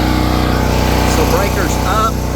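An electric water pump drones loudly and steadily with a buzzing engine-like hum, running throughout while a voice speaks over it.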